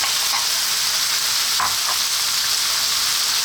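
Chicken and cooked rice frying in a pan for chicken fried rice, a loud, dense, continuous sizzle with a few brief stirring scrapes, close up and without talk.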